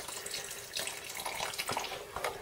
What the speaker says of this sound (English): So just add, you know, maybe a cup or so of stock.